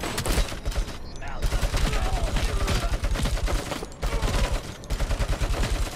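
Rapid bursts of gunfire from the Robocop: Rogue City video game crackle densely for several seconds, with brief pauses between volleys.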